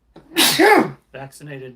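A single loud, close human sneeze bursts out, followed right after by a short spoken phrase.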